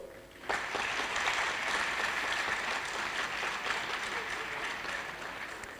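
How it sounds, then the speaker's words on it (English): Audience applause at a university technology week event, a sudden burst of steady clapping from a crowd that starts abruptly and holds at an even level, moderately loud and close. "If you want to clap, please do it well"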